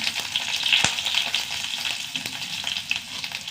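Urad dal and mustard seeds sputter in hot oil as a tempering for a Kerala-style dish, making a close, continuous sizzle with bright popping crackles and one sharp pop near the start, with no voices.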